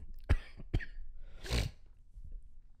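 A few close, sharp coughs: two quick bursts, then a breathier, rougher one after a short pause.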